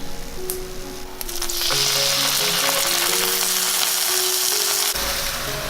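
Water hits a hot pan of frying potstickers and bursts into a loud, sustained sizzle and hiss, with light music continuing underneath.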